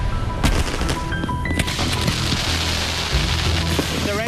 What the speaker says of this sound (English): The shells and comets are firing exactly according to plan.